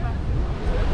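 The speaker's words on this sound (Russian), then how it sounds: "Вот это я понимаю, бушующий океан." Rough waves crash on a windy Baltic Sea shore, a dense, loud roar of surf with wind buffeting the microphone throughout the brief moment.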